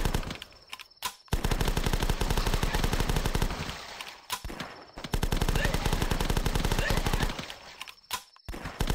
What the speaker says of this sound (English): Shotguns for the guys that get to the barricade.